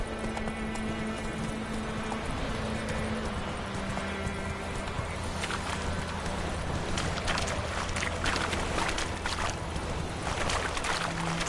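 Horse hooves clip-clop steadily in The Witcher 3, a continuous trotting rhythm under dense game ambience and music, moderately loud and close throughout.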